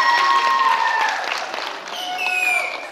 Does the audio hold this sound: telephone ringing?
no